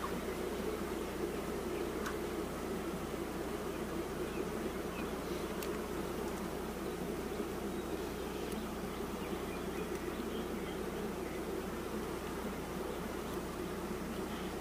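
Dense, steady hum of many honeybees swarming over an opened stacked beehive during an inspection, a continuous close buzzing drone that fills the whole stretch without talk.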